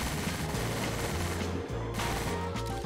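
Rapid automatic gunfire rattles in sustained bursts in a GTA 5 virtual reality game, loud and continuous with brief pauses between volleys and no talking.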